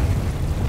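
Spell explosions from Bombarda and Confringo in the Hogwarts Legacy video game make a brief, dense, low rumbling burst that is loud and close, with no speech.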